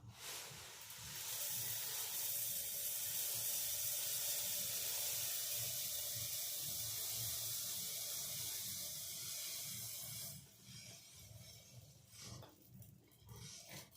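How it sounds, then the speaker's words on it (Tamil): Mixer grinder jar grinding roasted, cooled ration parboiled rice into fine powder, a steady loud whirring drone for about ten seconds before cutting out into a few softer rattles. "இப்போ மிக்சி ஜாரில் போட்டு நம்ம அரைச்சி எடுத்துகிட்டு வந்துடலாம்"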